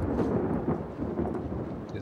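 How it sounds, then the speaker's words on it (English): Thunder rumbles low and heavy over steady falling rain in a flooded city scene from The Last of Us Part II, a continuous dense storm wash with no voices. "There's a lot of rain going."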